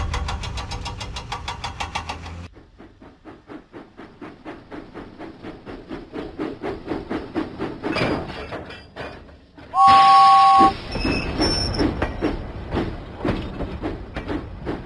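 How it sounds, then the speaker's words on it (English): A steam engine train from a Thomas and Friends video game puffs in rapid rhythmic chuffs as it pulls away from the docks, with a short whistle blast midway and a steady chugging that continues. "James pumped his pistons and puffed out of the docks."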